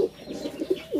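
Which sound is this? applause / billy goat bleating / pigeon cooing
pigeon cooing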